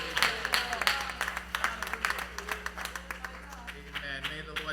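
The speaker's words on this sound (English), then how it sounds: "Clap your hands, everybody." A church congregation claps hands together in a steady, rhythmic beat during praise, many sharp claps repeating about twice per second over a low sustained hum.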